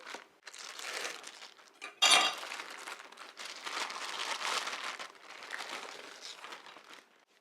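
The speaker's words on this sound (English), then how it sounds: "Let me go ahead and cut it out of the bag here." Dry-cured capicola being cut free of its plastic dry-aging bag: crinkling plastic and knife scrapes at close range, with one sharper rustle near the middle, quiet overall.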